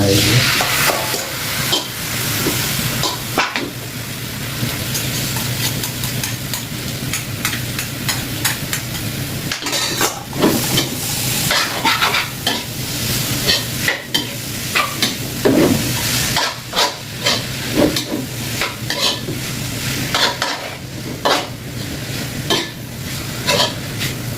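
Long beans stir-fried with red curry paste and crispy pork sizzle steadily in a hot pan, with a spatula scraping and tossing throughout and loud, close frying that never stops.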